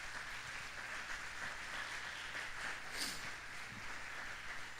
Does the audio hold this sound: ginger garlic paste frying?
no